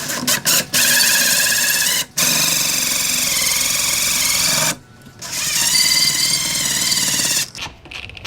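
A power drill bores the structural brace hole through an AR-15 thumbhole stock, a loud, sustained high-pitched whirring grind that runs in long steady bursts, with brief pauses between passes.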